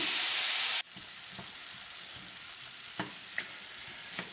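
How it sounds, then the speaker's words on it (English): Italian sausage sizzles steadily in a pan over medium heat, a bright hiss that drops suddenly to a softer frying crackle, with a few light scrapes as it is stirred and broken up. "I've been cooking this over medium heat and breaking the big bits down for about 5 minutes."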